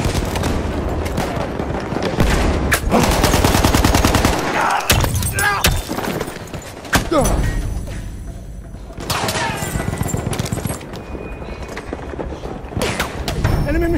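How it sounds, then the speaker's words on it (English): Dense automatic machine gun fire in a Battlefield 1 battle, with rapid bursts, sharp impacts and explosions piling up over continuous rumbling combat noise, loud and close for most of the stretch. "Enemy machine gun over there!"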